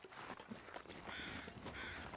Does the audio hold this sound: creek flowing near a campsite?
no